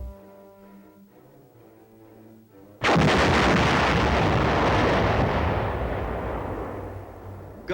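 A 240mm self-propelled howitzer fires a single huge blast after a quiet stretch of low mechanical loading noise, the report near and very loud before a long rumbling decay.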